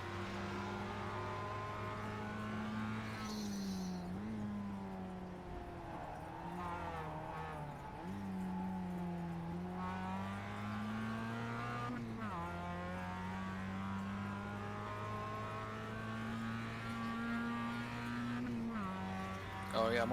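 Porsche race cars in the iRacing game at Mosport, engines droning loudly and steadily with rising and falling pitch as cars approach and pass, brief skid-like squeals mixed in, with talk over it.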